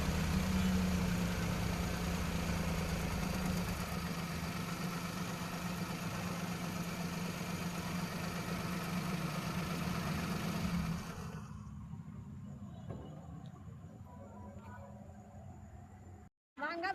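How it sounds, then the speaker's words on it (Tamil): A 2005 Maruti Suzuki Alto LX with a new battery idles with a steady mid-low hum, fairly quiet and close, before the noise drops to a fainter level near the end. "பாருங்கள் இன்ஜின் சவுண்டு."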